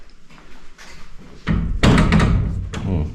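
Someone tries the locked back door of an old overland camper van, whose back window is busted out, and it thumps and rattles loudly a few times, close by and with no talking.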